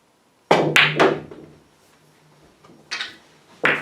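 A golf ball is struck with a club for the first shot in an aiming routine, giving a sharp close thunk followed by a second impact, with further brief knocks a couple of seconds later.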